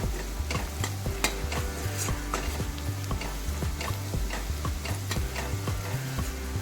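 Masala for an ambadi fry sautéing in a pan, a dense steady sizzle under quick, regular ticking spatula scrapes, close and even in loudness, with no speech.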